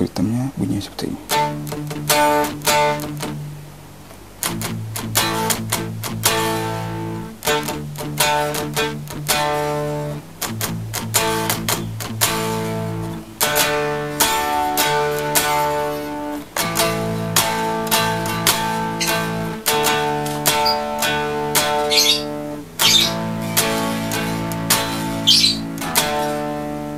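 Electric guitar played through a Boss DS-1 distortion pedal with the volume set at nine o'clock, giving a sustained, buzzing distorted tone with picked notes and chords ringing steadily and fairly loud for almost half a minute, no voice over it.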